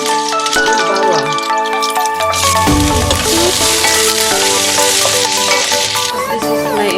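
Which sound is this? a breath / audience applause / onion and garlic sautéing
onion and garlic sautéing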